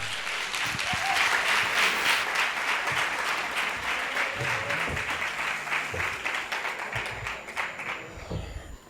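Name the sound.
audience applause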